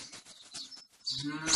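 A cow moos in a children's cartoon farm scene, a single drawn-out call heard close and clear, with no talk over it.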